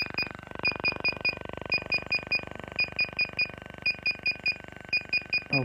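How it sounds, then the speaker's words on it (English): Shrill electronic beeps from a DJI Phantom 3 drone's remote come in quick bursts of four, repeating at a regular pace, with a few brief louder chirps near the start and end. "so we got some beepings"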